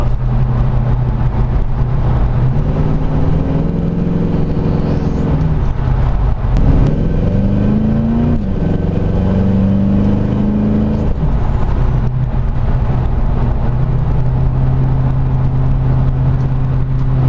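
A 1970 Chevrolet Chevelle Malibu Sport Coupe accelerates hard, its loud engine climbing in pitch through rising revs, easing briefly between pulls and building again, with a strong steady roar heard from nearby.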